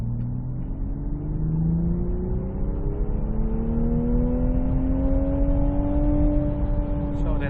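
Toyota GR Supra GT4 engine pulling in 3rd gear from about 2000 RPM, a steady, loud drone rising slowly and smoothly in pitch as the car accelerates, heard from inside the cabin.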